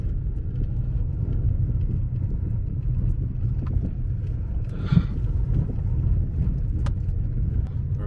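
Inside a rental car creeping at about ten miles an hour over a badly potholed road, a steady low rumble of engine and tyres with a brief bump and rattle midway, no talk.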